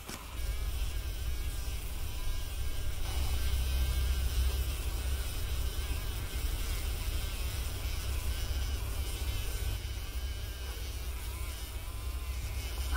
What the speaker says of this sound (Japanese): ハエが交尾してるよ。